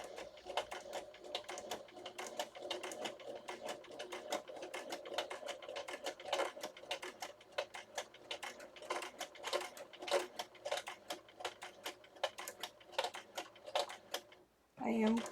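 Sewing machine stitching steadily at a moderate pace, a dense run of rapid needle clicks with a motor hum, close and fairly loud, while finishing a Christmas journal cover, stopping abruptly near the end.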